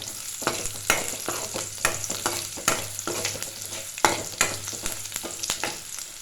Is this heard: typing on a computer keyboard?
no